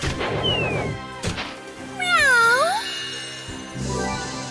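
A cat meows in the Disgaea 6 video game. Several bright, sweeping game-voice meows come in quick succession over a steady musical backing, loud and close.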